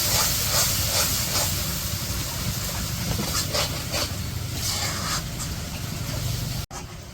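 Shutki bharta, a dried fish paste, frying in oil during simple village cooking, giving a loud, steady, close sizzling hiss that runs throughout with only a brief momentary dropout near the end.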